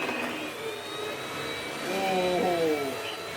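A Vorwerk VK200 premium vacuum cleaner stood upright and running in a low mode, giving a steady whining motor hum with a high tone that shifts pitch slightly partway through, close and continuous.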